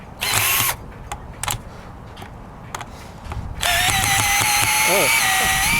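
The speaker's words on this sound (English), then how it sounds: "I put it on drill, see if we can take it out." Two short drill bursts, then a quiet stretch with light clicks, followed by a longer steady Black + Decker cordless drill whine as a screw is backed out.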